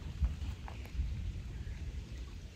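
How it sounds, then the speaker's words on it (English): Low, rumbling thunder rolls through steady rain noise on a mountain hiking trail, with a couple of deeper booms standing out near the start and middle. "Hearing thunder pretty close."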